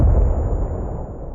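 A booming artillery blast in Arma Reforger, loud and close, with a deep low rumble that starts abruptly and decays over about a second, no voices present.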